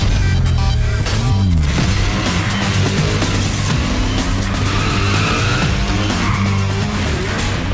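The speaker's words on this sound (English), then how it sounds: "Use the handbrake to kick off the drift, then feather the throttle and brake to maximize it" Tires squeal and skid continuously as a race car drifts in Need for Speed: SHIFT, loud and sustained over the roaring engine, with no talk.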